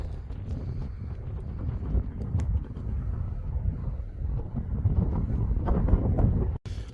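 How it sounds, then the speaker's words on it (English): Strong wind buffets the microphone on an open hillside near Brown Knoll, a constant roaring rumble with gusty surges that builds toward the end and cuts out abruptly for an instant. "I don't know if you can hear me because of wind."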